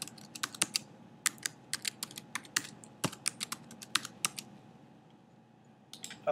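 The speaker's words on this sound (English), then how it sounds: "So let's type in a password that we can actually remember." A password being typed on a computer keyboard while setting up a WordPress website, heard as a run of close, crisp key clicks in irregular bursts with short pauses, alone over faint room hum.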